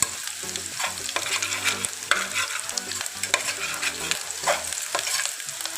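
Sugar being stirred and fried in a pan over a low flame while chicken is cooked: a steady, close sizzle with repeated scraping stir strokes throughout, and no talking.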